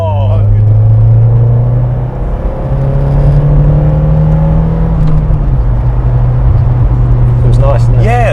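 Ford Escort RS Cosworth turbo engine accelerating in a steady, loud rumbling pull that climbs slightly in pitch, with a faint whine and road noise, heard from inside the car while people talk over it.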